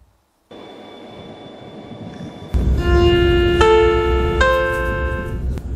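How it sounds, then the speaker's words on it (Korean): KTX high-speed train on the Donghae line between Dongdaegu and Pohang: quiet cabin hum that swells into a loud steady rumble and whine with rising tonal notes as it speeds up near 300 km/h, no talking. "300km에 가까운 속도로 달리던 열차는 연이은 터널을 지나 35분 만에 포항역에 도착합니다"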